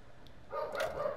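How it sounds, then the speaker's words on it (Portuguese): A dog barks out on the street, a faint, distant yelp or two rising over quiet room background in a short burst. "Tem esse cachorro latindo na rua agora"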